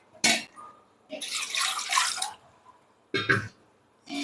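Water being poured into rice batter while mixing curry leaf vathal, heard as short splashing pours and trickles in separate bursts with quiet gaps between them.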